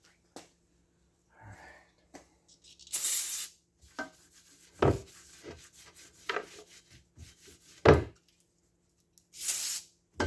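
Short bursts of aerosol brake cleaner are sprayed onto a Pro Mod style modular rear end assembly for a Nova, several hissy blasts separated by rubbing and handling noises close by in a quiet workshop.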